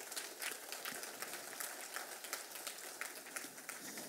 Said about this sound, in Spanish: Dale un aplauso al Señor si te animas a dárselo.